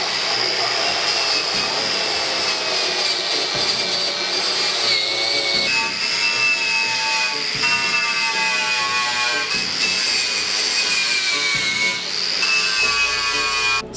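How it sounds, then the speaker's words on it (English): Wire wheel on a power tool grinding surface rust off a Golf GTI MK3, a loud continuous high whirring scrape with pitch shifting as pressure changes, close and steady throughout. "So that's any surface rust now ground back to a nice and clean finish"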